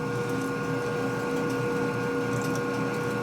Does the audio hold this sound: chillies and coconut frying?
no